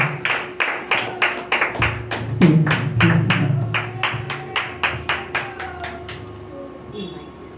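A worship congregation claps their hands together in a steady, even rhythm, loud and close for several seconds. A low murmur of voices sits beneath the claps.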